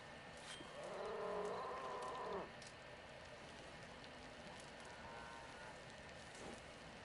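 Cattle moo in Red Dead Redemption 2, one long low call that fades in the distance under steady outdoor ambience, faint against a background hiss.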